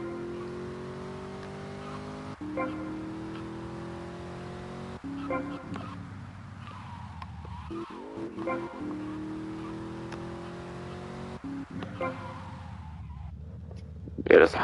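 A Hot Ring Racer car in GTA Vice City races with a steady engine drone that climbs in pitch through repeated gear shifts, accompanied by tire noise and a sharp burst near the end.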